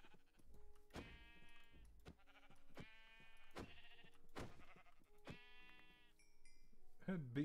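Several wavering sheep bleats from Minecraft, repeated at a steady rhythm and fairly close, ending in a brief burst of other game noise.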